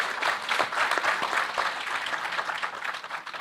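A seated conference audience applauds guests at a political conclave, a dense, continuous burst of clapping filling the room at moderate loudness with no talk over it.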